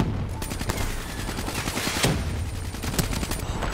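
Gunfire in the Call of Duty: Black Ops III campaign mission Vengeance, rapid repeated shots and bursts in a steady stream with louder cracks standing out, dense and continuous without talk.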